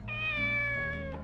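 A cat in the video game Shenmue gives a single clear, drawn-out meow, close and alone, with a falling pitch.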